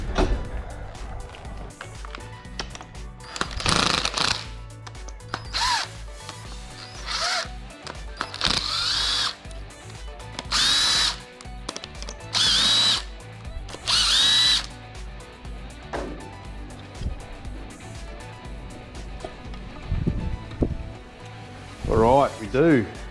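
Loud power drill or impact driver bursts in repeated whirring runs, several seconds each with short pauses, backing fasteners out of the rocker cover on a 1959 Chevrolet Apache pickup engine, with a clatter near the end.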